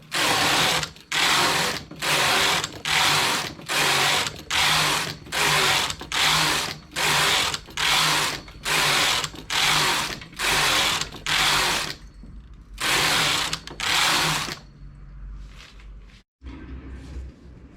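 A knitting machine carriage is pushed back and forth while knitting a vest cuff, fifteen loud, regular rasping mechanical passes close by, each about a second long, then a pause and a couple of softer clunks.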